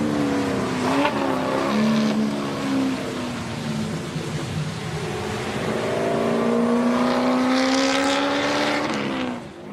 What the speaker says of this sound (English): the V6 in this thing is probably the best sounding V6 I've ever heard